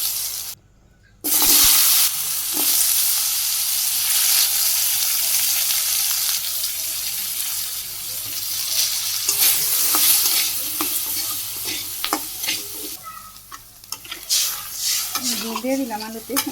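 Potatoes being sautéed in a pan, a constant bright sizzle with scraping stirs and utensil clinks against the pan, close up, with a brief gap near the start.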